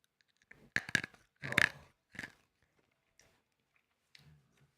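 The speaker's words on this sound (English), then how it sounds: "we can really hear the crunch" Crisp crunching of food being chewed close to a microphone, a few short bursts with quiet pauses between them, and no voices.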